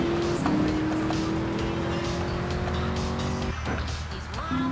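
A car in Grand Theft Auto III drives with its engine droning steadily while the tires squeal in long, sustained skids that break off briefly and return near the end, loud and close throughout.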